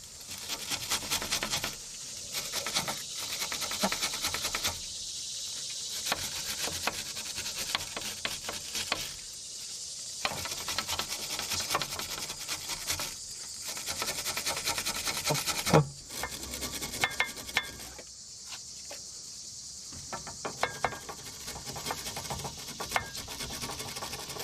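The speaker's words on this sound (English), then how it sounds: "use a wire brush, get all of that corrosion off of those threads" A wire brush scrubs corrosion off the threaded bolts of a Toyota Highlander or Lexus RX330 sway bar link, giving continuous harsh raspy scratching in long bursts with brief gaps, close up and steady.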